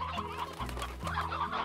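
Chickens in the video game Slime Rancher, clucking in short, repeated bursts close by with no talk over them.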